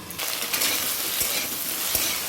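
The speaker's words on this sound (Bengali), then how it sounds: "কচুটা একটু ভাজা ভাজা করে নিলাম" Taro (kochu) pieces fry in a covered pan over lowered gas, giving a steady, fairly loud broadband sizzle throughout, with a few faint clinks from the utensils.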